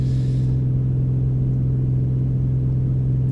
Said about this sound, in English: The sound of that engine is just absolutely incredible.